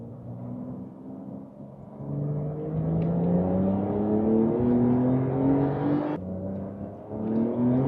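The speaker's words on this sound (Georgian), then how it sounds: "ძალიან კარგი და სტაბილური აჩქარება გვაქვს ამ Porsche-ში." A Porsche 992 Carrera GTS accelerates hard from inside the cabin, its engine note climbing steadily through the revs, with a brief drop at a gear change before it pulls again, loud and continuous.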